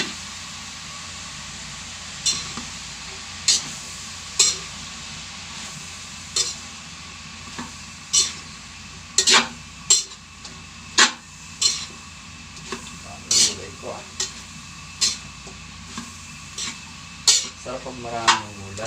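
Cabbage and mixed vegetables being stir-fried in a pan: repeated sharp clinks and scrapes of a utensil against the pan, irregular through the stretch and busier near the end, over a soft background sizzle.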